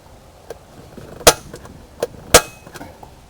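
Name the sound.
center punching holes through drilling template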